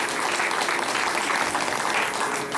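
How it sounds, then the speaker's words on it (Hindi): An audience at a Ram Katha gathering claps loudly and continuously, a thick, even wash of many hands that holds at full strength for the whole stretch, with no talking over it. "एक बार जोरदार ताली बजा दीजिए।"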